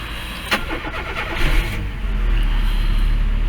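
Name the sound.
car engine starting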